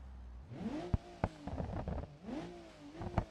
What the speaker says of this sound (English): that sounds like a police car